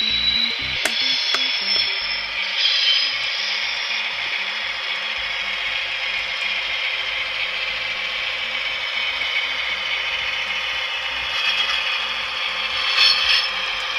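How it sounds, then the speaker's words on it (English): Model locomotive sound unit running over track turnouts on a layout, a continuous mechanical ratcheting, clicking rumble with a steady hiss, with no talk. "let's listen to what happens when the model gets right over those turnouts"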